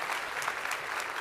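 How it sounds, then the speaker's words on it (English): Audience at a talk applauding after a writer finishes a story, a brief burst of dense, steady clapping. "Big round of applause."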